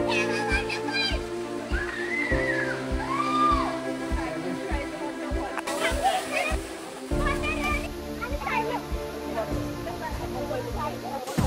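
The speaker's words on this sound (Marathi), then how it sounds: "पुढे एक छोटासा धबधबा आहे." A small waterfall on a walk near Yedshi Ramling temple, rushing water steady beneath people talking and a voice, with some whistling and brief splashes.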